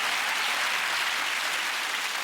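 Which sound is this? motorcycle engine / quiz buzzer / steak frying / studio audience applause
studio audience applause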